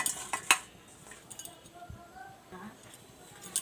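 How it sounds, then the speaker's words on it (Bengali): A metal spoon clinks and scrapes against a cooking pot while skimming foam off simmering dal, with a few sharp taps early and soft stirring after. "আমি ডালের ফেনাটা কেটে দিচ্ছি"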